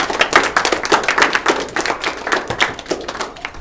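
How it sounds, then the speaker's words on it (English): Small group applause for Ben after a personal finance talk, close and uneven clapping from a few pairs of hands, fairly loud throughout. "Give Ben a round of applause, please."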